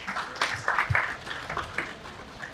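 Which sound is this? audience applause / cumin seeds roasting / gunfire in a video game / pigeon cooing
audience applause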